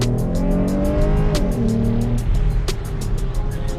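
A Jeep Grand Cherokee with an Apexi open air intake revs hard toward 5,500–6,000 rpm, its loud close engine note rising and dropping in a raspy, gurgling roar.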